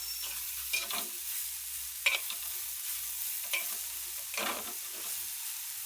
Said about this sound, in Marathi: चांगला तेलात भाजायचा पण हा.